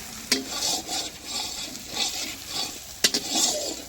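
Garlic sizzling in hot oil for a picnic meal, a steady crackle with stirring scrapes and two sharp clatters of a spoon against the pan.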